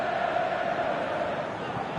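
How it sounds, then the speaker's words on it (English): Steady stadium crowd roar in the PES 2019 football video game, a dense continuous murmur with a sustained chant-like tone, moderately loud and unbroken throughout. "The crowd are calling for this to be put to bed."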